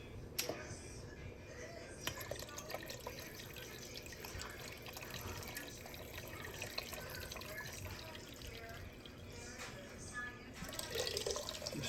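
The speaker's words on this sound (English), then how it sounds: "And I'm going to fill each of these with a little water." Water runs steadily from a tap into a sink, a continuous splashing hiss with a few clinks and bumps, fairly close.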